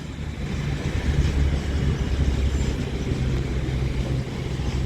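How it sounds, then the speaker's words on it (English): A Class 323 electric train pulling out of Manchester Piccadilly station, a steady low rumble and hum of rolling stock that holds level throughout, with faint high station noise above it. "There is also a 323 departing for Northern, heading to Hadfield with the 1502 service."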